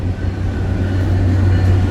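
A low, steady rumble of a train rolling past nearby, with a constant hum underneath and no talking.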